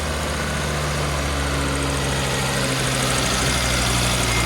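A Volvo V70R engine idles steadily just after its first start, a close, continuous low rumble with a constant drone and no talk over it.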